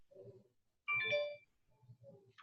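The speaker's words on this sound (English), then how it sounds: "but I think it was just a phone." Short electronic ringtone bursts from a phone going off during a small online group meeting, a rising melodic trill followed by quieter tones, moderately loud with no one talking over it.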